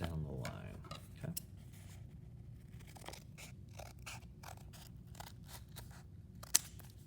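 Scissors cut down a line through a stack of folded paper, a series of crisp snipping and scraping strokes at an irregular pace, close and fairly quiet, with one sharp click near the end.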